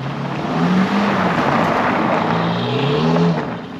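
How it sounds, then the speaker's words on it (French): A car drifting on a wet surface with puddles nearby, its engine roaring loud and continuous throughout, with rising and falling revs and a steady rushing noise. "On va faire du drift."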